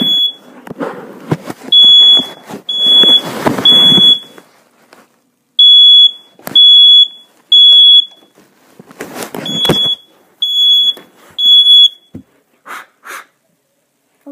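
A smoke detector fire alarm in a tiny smoke-filled room gives loud, sharp repeating beeps in short bursts, broken by gaps, with rustling and breathing-like noise between some bursts.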